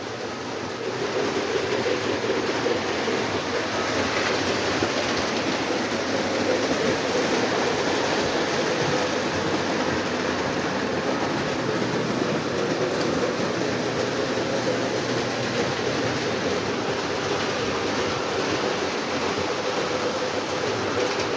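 Lionel model trains, four running at once pulling a Christmas train set on a layout, give a steady continuous rumbling roar with faint rail clatter that holds at an even level throughout.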